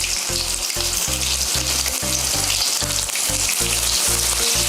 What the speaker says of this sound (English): So I'm going to give this a little fry.